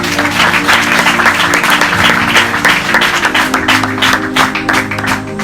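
A church congregation applauds Jesus during a French-language sermon, giving loud, dense, sustained clapping from many hands with no break, with a low hum of voices and music underneath.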